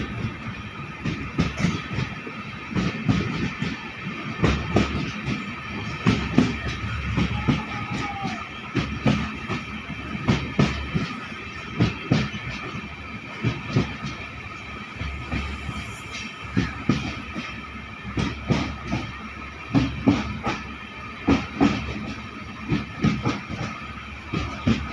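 Inside the Balurghat Express LHB train (13063) as it passes Old Malda Junction, steady rumbling wheel noise with frequent rhythmic clicks over rail joints runs throughout, loud and continuous.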